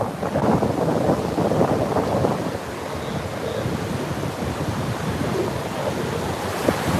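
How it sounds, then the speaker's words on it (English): Continuous wash of ocean surf with gusty wind buffeting the microphone, steady and fairly close, no voices. "just looking at these little waves"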